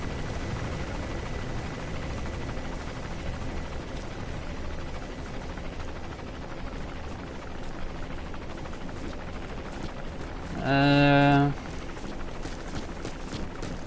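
Helicopter in the video game Metal Gear Solid V: The Phantom Pain, a steady low rotor drone held at moderate level throughout, with a short tonal game sound briefly rising over it.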